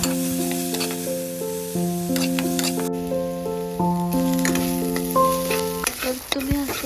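Bhakri crumbs being stirred and fried in a pan, a steady close sizzle with scraping spoon strokes throughout, alongside sustained musical tones in the background.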